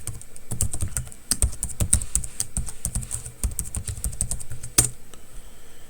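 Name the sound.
typing username and password on a computer keyboard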